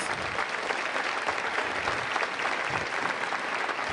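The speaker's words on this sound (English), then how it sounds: "Let's give them a round of applause." An audience at a school district meeting gives board members a round of applause, a steady, full wash of many hands clapping from start to finish.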